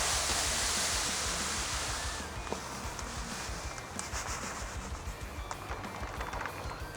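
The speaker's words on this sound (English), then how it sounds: "I'm just gonna dump it all in and stir it." Grain and Frosted Flakes being dumped and stirred with a big paddle into brew water in a BrewZilla Gen 4 all-in-one brewing system, heard as a steady close rushing, rubbing swirl with occasional knocks and no talk.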